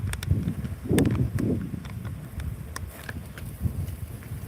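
Gusty wind at a cold campground buffets the microphone with low rumbling surges, strongest in two bursts early on, then a steadier blustery roar.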